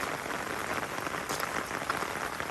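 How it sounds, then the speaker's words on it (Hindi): Heavy stormy rain pours down in a continuous, dense wash of drops drumming on surfaces, steady and unbroken over a brief stretch. "बहुत तूफानी बारिश है और फ्लड्स आने हैं"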